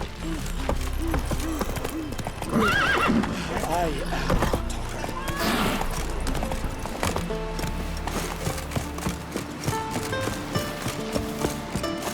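In the video game The Witcher 3: Wild Hunt, a horse gallops with steady clip-clop hoofbeats and gives a sharp neigh early on, while voices speak over it.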